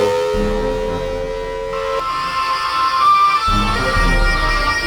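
A tornado siren tone holds steady, then steps up in pitch and keeps wailing, loud and close, with a low rumbling hum underneath.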